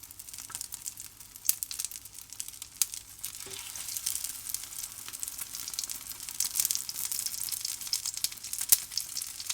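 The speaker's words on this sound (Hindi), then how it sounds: "अब हम इसमें मज़ीद और टिक्कियाँ डाल के इसी तरह फ्राई कर देते हैं।" Potato tikki patties fry in a pan with a steady sizzle that builds gradually, with a few sharper crackles and pops over the oil's hiss and no talking.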